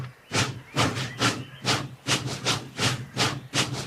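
Steam engine puffing away from a cartoon railway, rhythmic bursts of hissing exhaust about twice per second, loud and close, evenly paced with no voices.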